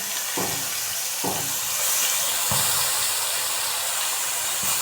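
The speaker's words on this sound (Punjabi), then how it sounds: "ਤੇਲ ਗਰਮ ਹੋ ਗਿਆ ਤੇ ਹੁਣ ਆਪਾਂ ਇਹਦੇ 'ਚ ਪਾ ਲਾਂਗੇ ਆਪਣਾ ਮਸਾਲਾ" Masala spices sizzle and hiss steadily in hot oil for a black chickpea curry, a loud continuous frying noise with a few soft thumps of stirring.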